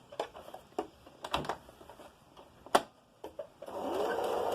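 A sewing machine back stitching a face covering in contrasting thread, stitching in several short bursts with pauses between, then a longer steady run at the end.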